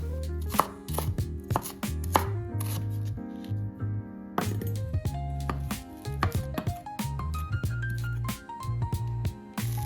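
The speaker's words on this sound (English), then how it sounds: "we're gonna chop up some tomato, onion, and cilantro" A knife chops tomato, onion and cilantro on a board in quick, crisp, close strikes in uneven bursts, playing under a melodic music track with no voices.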